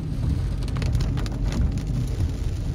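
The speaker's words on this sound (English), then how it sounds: "It's pouring rain, but let's go see what we can see." Heavy rain pours down steadily outdoors, a dense, continuous hiss with occasional louder patters and a low rumble beneath, heard close and without any talking.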